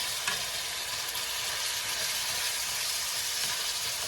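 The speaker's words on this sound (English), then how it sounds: "we're just going to go ahead and cook this ground beef" Ground beef frying in a hot pan, a loud, steady, close sizzle that holds evenly throughout.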